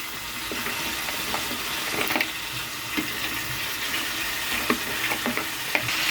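Steady loud sizzling of crab frying in a pan, with occasional pops and scraping clicks scattered throughout.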